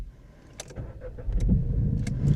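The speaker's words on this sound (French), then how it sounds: "Hop, tout de suite, on va démarrer." A 2017 SEAT Ibiza 1.0 TSI three-cylinder, 95 hp, cranks with a few clicks, then its engine catches and settles into a low, even idle rumble close by.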